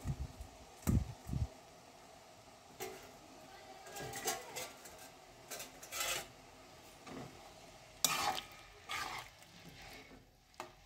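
Papaya pieces stirred in bubbling sugar syrup in a pan for tutti frutti, with faint scraping and rubbing strokes of the spoon coming in irregular bursts over a quiet simmering background.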